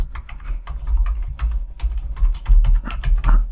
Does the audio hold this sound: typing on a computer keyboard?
yes